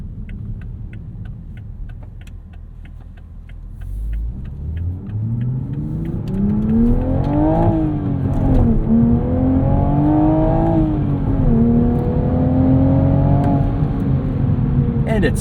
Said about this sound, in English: In sport mode, it opens the valve in the exhaust, you get some burbles.